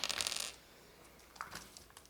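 Dice dropping onto a table during a card game, a quick burst of rattling clicks at the start followed by a few faint taps, quiet and close.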